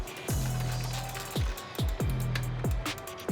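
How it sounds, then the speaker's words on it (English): Motorcycle chain adjusters on a 2020 BMW S1000RR being turned by hand tool, a run of sharp metallic clicks and ratcheting snaps repeating every half second or so, close and clear with no talk. "Now we can show you our slick chain adjusters."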